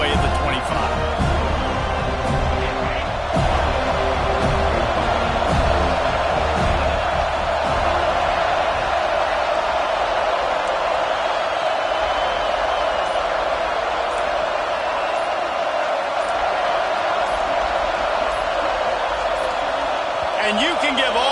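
Dense stadium crowd roar fills the stands at an American football game, a loud continuous wash of cheering and shouting that holds steady throughout, with a commentator's voice talking over it.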